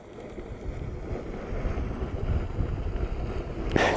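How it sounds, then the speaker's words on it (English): A boiling blue mud steam vent at Yellowstone's Norris Geyser Basin gives off a steady, rough, gurgling hiss, heard up close outdoors with wind buffeting the microphone. "Blue mud steam vent. Can you hear it? Boiling? Sounds like it's boiling."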